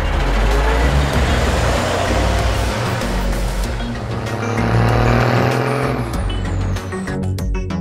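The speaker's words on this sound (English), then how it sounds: "Green Goddess fire engine." A Green Goddess fire engine rumbles loudly and steadily at close range, its heavy engine drone holding throughout with a brief higher whine near the end.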